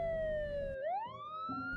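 A police siren wails in a radio drama sound effect, its pitch sliding down and then sweeping back up in a clear, loud tone that stands alone without any talk.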